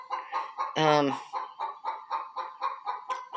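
Chickens in a backyard coop cluck in a steady, rhythmic series of short calls, with one louder drawn-out squawk near the start, close and clear.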